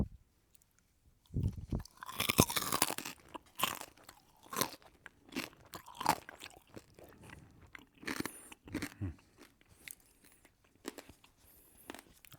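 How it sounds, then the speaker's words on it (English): Crispy crackling pork belly is crunched and chewed right at the microphone, loud sharp crackly bites followed by a steady run of wet, crunchy chewing with brief pauses, no talking. "I'm going to hold the microphone close to my mouth when I chew on this, and you can decide for yourself if it's crackling enough"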